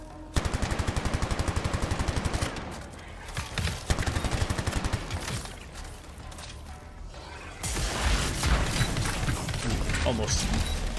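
Machine pistol gunfire in the video game Anthem: a fast, regular burst of close shots for about two seconds, then scattered bursts amid whooshes and mechanical game effects.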